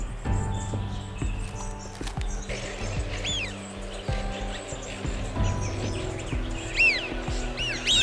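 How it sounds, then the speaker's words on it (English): Birds call and chirp at a lake filled with water, a migration stop for ground-nesting species, with repeated high chirps rising over a steady low background rumble, sometimes close and sometimes farther off. "While there is water in plenty, the birds continue to come."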